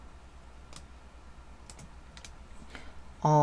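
A few scattered computer keyboard key presses click softly in a quiet room while a brush size is adjusted in Photoshop, ending in a sudden louder tonal burst.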